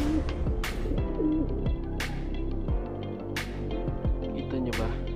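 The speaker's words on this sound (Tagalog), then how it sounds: "So ito mga kaibon" Close, steady cooing of pigeons or doves with a few brighter calls and rustles layered over the continuous warbling, heard near a setup where eggs are moved to a sitting hen.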